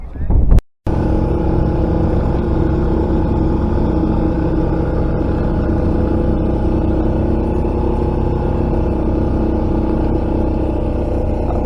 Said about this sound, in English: So you can hear we've got the engine on.